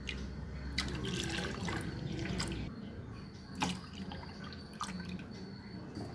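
Milk extracted for rava halwa trickles through a strainer into a vessel, a faint, steady liquid pour with scattered drips and small clinks, no voices.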